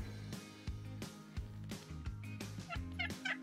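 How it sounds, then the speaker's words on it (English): Wild turkeys gobble in a large flock during a hunt, with repeated loud, rattling calls close by that overlap and grow busier toward the end, with no talking. "There are so many turkeys."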